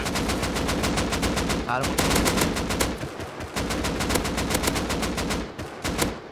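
Rapid bursts of AK rifle fire in the game Rust, dense and sustained automatic shots with brief pauses, loud and close, while a player speaks briefly over the shooting.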